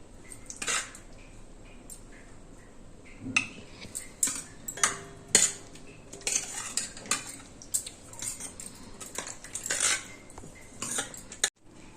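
A utensil scrapes and clinks against a metal vessel as pulihora tamarind rice is stirred and mixed, giving irregular close taps and scrapes at a moderate level.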